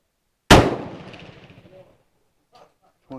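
FN FAL STG58 rifle fires a single loud, sharp shot that rings out and decays over about a second outdoors, followed by faint clicks and a brief voice.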